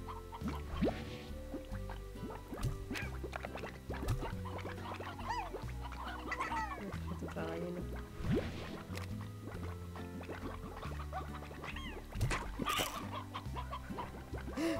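Chickens cluck and squawk in the Slime Rancher video game, with repeated nearby clucks scattered over a steady bed of upbeat game music and clicking effects, with no talk.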